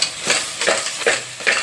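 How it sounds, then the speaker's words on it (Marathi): Crabs being stirred through a fried coconut masala in a hot pan, four scraping strokes at a steady pace over continuous close sizzling. "आता त्याच्यामध्ये मसाल्यामध्ये मी हे खेकडे टाकत आहे।"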